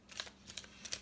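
Playing cards are shuffled for a pick-a-card reading: three soft bursts of crisp riffling and sliding over roughly a second, close and quiet, with no speech.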